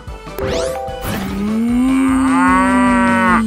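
A loud, drawn-out electronic cow moo from a robot toy dog, one long low bellow lasting a few seconds right after a short chime.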